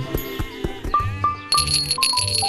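A small bell rings in a few quick, bright dings with a lingering metallic shimmer, close and clear, preceded by some soft handling knocks.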